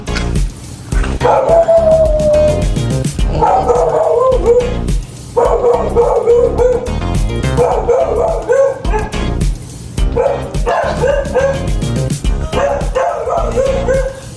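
A dog barks and yips repeatedly at a resort in Santa Lucia East, Moncada, Tarlac, with excited bursts, whimpers and howl-like cries, close and loud, while people's voices mix in underneath.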